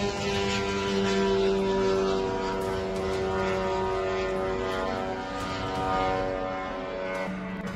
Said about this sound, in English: the Iranian drone Shahed 136 hitting an American base